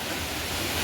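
Water pours steadily at Savdav waterfall in the Konkan during the rains, a dense, continuous broadband rush heard up close with no voices.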